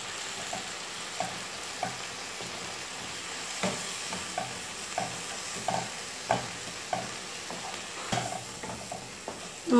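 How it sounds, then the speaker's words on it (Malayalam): Spice powders and tomato fry in a pan for chicken dum biryani, a soft, steady sizzle punctuated by regular scraping strokes of a spatula about every second, fairly quiet and without speech. "നമ്മുടെ പൊടികളുടെ പച്ചമണം പോകുന്നവരെ ഒന്ന് വഴറ്റി കൊടുക്കുക"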